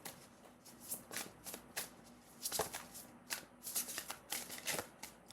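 A deck of tarot cards is shuffled by hand, producing quiet, close bursts of riffling and flicking in an irregular rhythm, with no talking.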